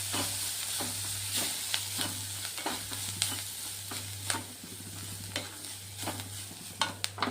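Masala spice for Kolhapuri-style misal is stir-fried in a pan, a spatula scraping and tapping in an irregular rhythm over a soft sizzle and a steady low hum, with no talking.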